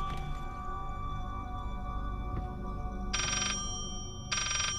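A telephone rings in Layers of Fear, two bright electronic ringing bursts about a second apart over a steady low ambient hum, with no talk.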